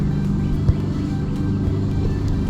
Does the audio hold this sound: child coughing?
no